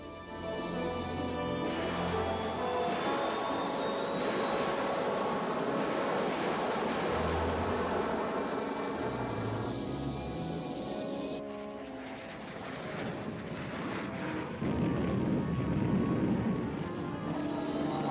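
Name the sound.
Allied B-29 bombers and fighter-bombers over Korea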